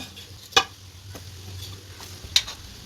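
Boiled beef goes into sizzling masala for a beef roast, with a low steady fry under two sharp metallic clinks of a utensil against the pan.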